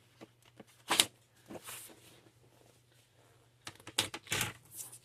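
Patterned paper is trimmed to size for a handmade card, giving a few close, sharp slicing swishes in two brief clusters separated by a quiet gap, with faint scraping between them.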